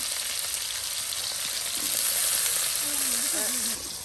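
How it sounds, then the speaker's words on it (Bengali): Potato pieces frying with turmeric and salt for a vegetarian Bengali village meal, a continuous loud hiss of oil that holds throughout and eases slightly near the end, with faint background chatter and a bird-like whistle. "এখন আলু ভেজে নেওয়া হচ্ছে দেখুন একদম সুন্দর করে"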